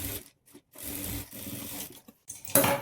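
Sewing machine stitching the side seam of a blouse, running in short bursts with brief pauses between, close and steady with a buzzing mechanical whir, ending in a sharper clatter.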